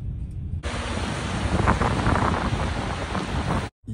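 Heavy rain pours onto a Paris street outside a fashion show during Paris Fashion Week, a steady, close, dense patter that starts abruptly and runs unbroken for about three seconds before cutting off.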